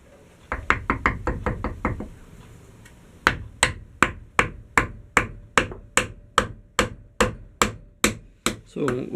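A wedge is hammered into a customised bushcraft axe handle, with a rapid burst of close, sharp knocks followed by a slower, regular series of louder strikes at about three per second.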